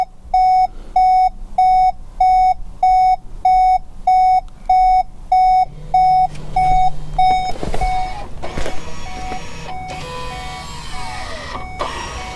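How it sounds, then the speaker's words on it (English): A loud electronic diagnostic warning beep repeats in a steady rhythm about a dozen times during a VW Tiguan rear brake pad change, then stops, leaving clattering workshop noises and mechanical sounds. "This beeping is annoying"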